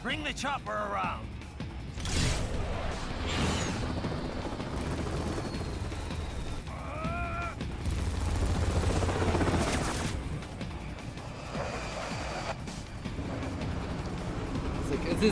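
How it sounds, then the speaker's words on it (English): Helicopter flying in during a Metal Gear Rising: Revengeance session, a steady whirring rotor drone that swells louder near the middle, mixed with game effects and a person talking over it throughout. "All right, bring the chopper around."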